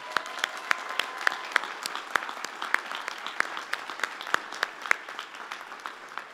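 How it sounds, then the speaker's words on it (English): A commencement audience at Oregon Tech gives a moderate round of applause, scattered individual claps standing out sharply over the steady patter of the crowd. "help me thank him with a round of applause"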